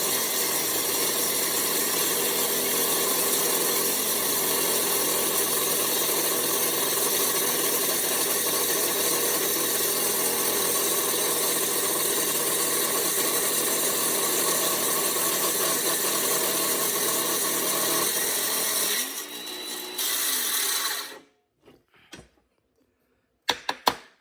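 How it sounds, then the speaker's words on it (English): A metal-cutting machine works a barrel bore with a loud, steady mechanical grinding whir that runs unbroken for about nineteen seconds, then sputters and cuts off into near silence with a few faint knocks. "This is how we cut metal."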